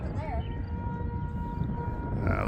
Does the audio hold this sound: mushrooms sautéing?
no